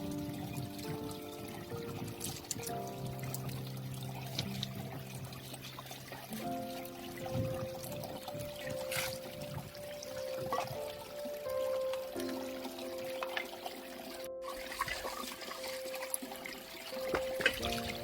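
Water poured outdoors at an open-air cooking spot, a continuous splashing trickle close by that thins and fades toward the end, with faint background murmur.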